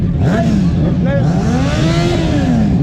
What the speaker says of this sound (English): So you guys enjoy the superbikes and the sounds